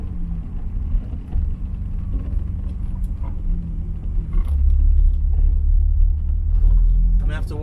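A car engine rumbles steadily on muddy roads while the driver double clutches, the low drone swelling louder partway through as the gear changes and the vehicle pulls away.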